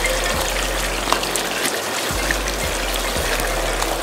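Water pouring and trickling steadily into plastic bottles during a bottle-filling race, a continuous close splashing stream with no talk.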